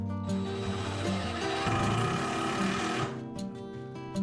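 A power driver sinks screws into black walnut shelving, a loud motor whine that strains and shifts in pitch for a few seconds before easing off.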